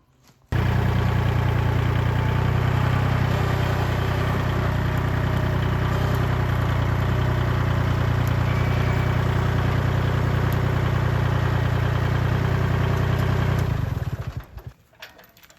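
A Kubota tractor engine idles steadily with a deep, even rumble that stays loud and constant, then cuts off near the end.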